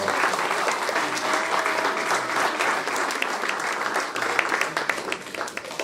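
A crowd applauds steadily throughout at a Korean school's 40th anniversary ceremony, a dense, sustained wash of many hands clapping at an even level.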